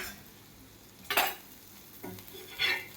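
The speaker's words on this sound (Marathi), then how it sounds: "तर इथे बघा मस्त असा आपण दोन्ही बाजूनी पाव भाजून घेऊया." Pav bread toasting in butter on a hot pan for Mumbai-style pav bhaji, with soft sizzling and a few scraping, stirring bursts against the pan, close and moderately loud, no talking.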